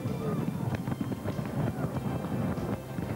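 Fireworks display going off in a dense run of sharp cracks and pops over a continuous rumbling roar, loud and close.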